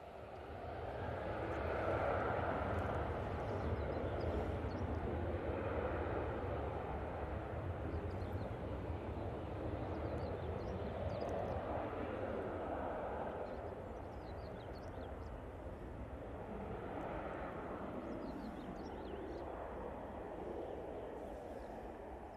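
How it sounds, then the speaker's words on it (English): A Jet2 Boeing 737 airliner departing Manchester Airport, a steady, broad engine roar that swells gently and holds for the whole stretch at moderate distance. "Next out, we've got the Jet2 737. It's going to be going off to Malaga."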